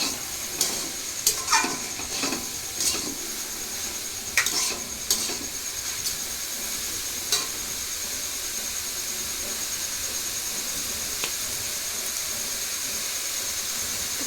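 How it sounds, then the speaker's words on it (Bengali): Vegetable chowmein stir-fried in a pan gives off a steady, close hiss of sizzling, broken by several sharp spatula scrapes and clatters over the first seven seconds, then settles into continuous frying with no talking. "এরকম ভালো করে নাড়িয়ে চাড়িয়ে কষিয়ে"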